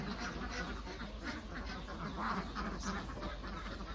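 Khaki Campbell and Yi Liang laying ducks kept in a converted old pig pen on an egg farm quack continuously as a dense, overlapping flock chorus, fairly close and steady throughout.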